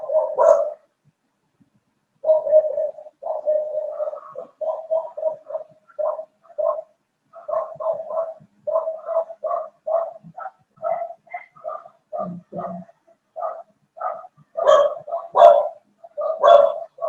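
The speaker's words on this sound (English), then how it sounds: "Sorry about the dogs." Dogs bark over and over in a room, close and fairly loud, as a run of short rapid yaps and barks with brief gaps between them.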